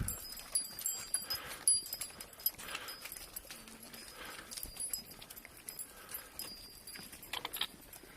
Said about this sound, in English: The llama train.